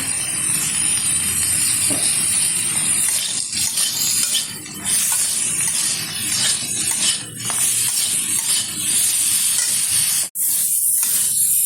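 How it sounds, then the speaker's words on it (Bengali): Eggplant pieces fry in hot oil in a pan with a loud, steady, continuous hiss and sizzle that runs throughout, interrupted by one brief dip near the end. "একটু হালকা করে ভেজে নিচ্ছে, দিয়ে দিচ্ছি পরিমাণ মতো লবণ।"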